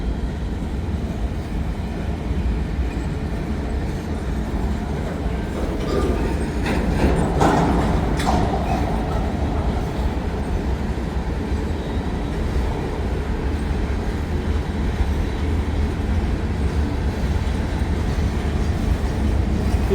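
Train passing on the former Baltimore and Ohio line at Canal Ridge, a long, steady rumble of rolling wheels with occasional clicks and metallic squeals, loud and continuous for twenty seconds.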